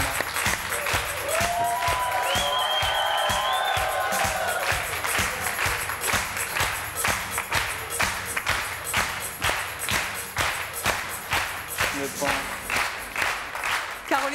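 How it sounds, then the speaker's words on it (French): A French television studio audience on the talk show C'est mon choix greets guest Caroline with sustained, dense applause lasting throughout, joined briefly early on by a bright jingle-like tone, with voices emerging near the end. "Je vous demande de l'applaudir très chaleureusement."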